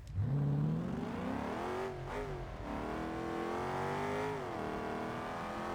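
Mercedes-Benz AMG car in the BeamNG Drive driving game, its exhaust revving loudly and continuously, pitch climbing, dipping briefly, then rising again in steady sustained roars with no talking.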